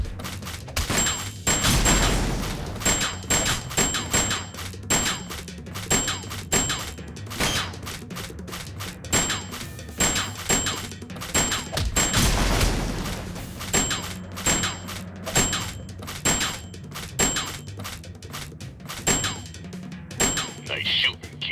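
Gunfire in the Sam & Max video game, rapid bursts of shots and impacts repeating across the clip, loud and close, with game music and effects underneath.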